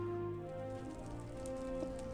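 Deadly rain summoned by the Urghast boss in modded hardcore Minecraft, a steady dense patter of falling drops spread evenly across the whole moment, with a faint tonal hum underneath and no voices.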